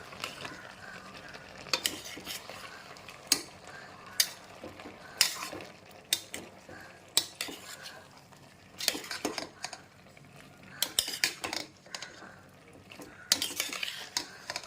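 Ground coconut paste being stirred into avial in a pan, with a spoon scraping and clinking against metal in irregular strokes over soft sizzling, fairly close and alone.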